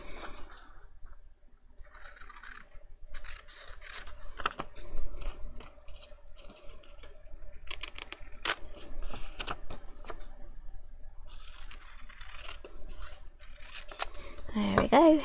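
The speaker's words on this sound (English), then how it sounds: "maybe I'll just use my smaller scissors" Close-up scissors snip repeatedly in short, uneven bursts, with rustling and handling noises between cuts and quiet stretches.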